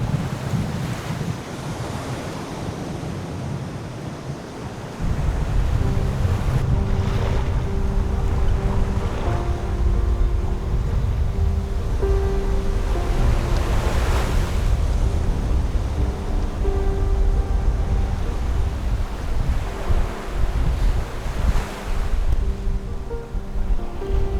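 A sailboat heels through wind and waves in the Gulf of Alaska, with loud wind buffeting the microphone, rushing water along the hull and surf swells rising and falling continuously.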